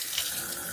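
Water runs steadily from a newly fitted faucet head in a Tesla Cybertruck's storage sink, a brief close, even hiss with no voices.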